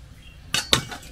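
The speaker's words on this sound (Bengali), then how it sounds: "সেগুলো এরকম লম্বা লম্বা করে কেটে নেব" Knife cutting bitter gourd into long strips in a home kitchen, two quick sharp clicks against a board or plate, close and fairly quiet.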